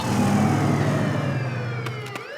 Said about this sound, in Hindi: अरे बाप रे, ये तो पुलिस का सायरन है।